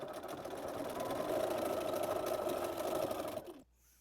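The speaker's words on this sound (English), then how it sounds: "I'm just going to move my needle to the left until I'm sure that it will sew along the edge of my" A sewing machine stitches steadily along the edge of a narrow fabric strip, a continuous close mechanical whir that stops abruptly near the end.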